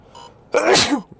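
A single loud, close sneeze bursts out after a moment of near-quiet, recorded during a live tornado-warning storm chase around St. Louis, Missouri.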